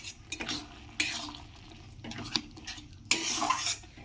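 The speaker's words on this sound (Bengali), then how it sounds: "এরকমভাবে ভালো করে নাড়া দিয়ে দিতে হবে, নাড়তে হবে জিনিসটাকে" Chal kumro ghonto made with katla fish head is stirred in a pot, producing bursts of scraping and clanking from a utensil against metal in several uneven strokes over a faint background simmer.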